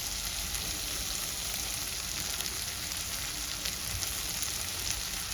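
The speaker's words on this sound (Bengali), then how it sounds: "তেল ছাড়তে শুরু করেছে এবার আমি পরিমাণ মতো দিয়ে দেব এক চামচ ধনে পাউডার" Rohu fish masala fries steadily in oil as coriander powder goes in, making a constant, even sizzle with no pauses and no voices.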